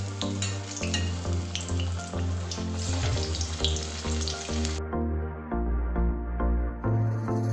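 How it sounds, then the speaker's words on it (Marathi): Small cut pieces of aluvadi deep-frying in hot oil, a dense continuous sizzle with bubbling and a running-water quality, loud and close, with a low steady hum underneath and no voices. "थोडा वेळ आपण असे तळायला ठेवूया कारण ते चांगले शेकायला पाहिजे ना"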